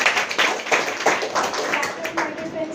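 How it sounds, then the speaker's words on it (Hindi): A crowd claps for Rekha at a business plan event with a burst of close, loud hand claps that thins out, then a voice speaks as it fades. "एक बार जोरदार तालियां रेखा जी को।"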